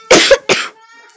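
Two sharp, loud coughs in quick succession, close to the microphone, followed by quiet.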